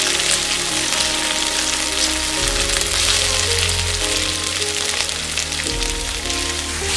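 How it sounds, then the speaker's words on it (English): Steady, loud sizzling of individual beef Wellington portions searing in a hot pan, a continuous crackling hiss with a low hum underneath. "Now, let's let this sizzle."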